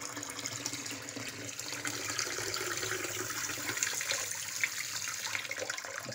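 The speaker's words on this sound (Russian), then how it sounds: "Вот так я включил воду, хотел помыть после нашего ремонта." Tap water runs steadily from a faucet after a drinking-water pipe repair, a continuous hissing splash into a sink at moderate level with no talk.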